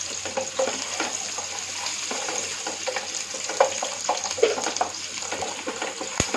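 Onions, garlic and ginger frying together in a pan for tikka masala, a steady close sizzle with scattered clicks and scrapes as they are stirred and tossed, one sharp knock near the end.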